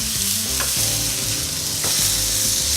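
Burger patties sizzle loudly in a hot pan just after being flipped, a steady dense hiss with a couple of brief clicks and crackles, close up and with no talking.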